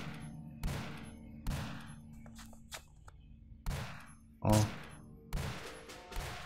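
Gunshots from the Western hack-and-slash game Lonesome, sharp loud blasts repeating about every second in an irregular burst of around eight shots over a steady low background hum, with no talking.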